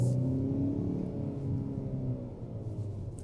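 A 2024 Hyundai Sonata's 2.5-liter engine accelerating from inside the car, a rising, rumbling rev that climbs and then eases off over a few seconds, steady and fairly loud with no talk.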